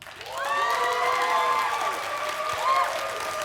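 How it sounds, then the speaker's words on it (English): A tech-conference audience at GeekWire Summit 2015 claps and cheers loudly to vote for Glowforge, with sustained applause carrying whoops and shouted voices throughout. "Everyone who wants to vote, just clap, get as loud as you can."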